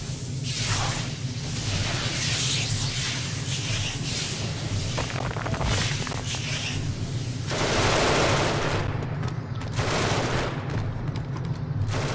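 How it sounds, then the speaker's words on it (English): Sustained automatic gunfire in the sci-fi game Genesis: Alpha One, loud rattling bursts overlapping almost without pause for many seconds, with heavier booms swelling now and then. "Opening fire!"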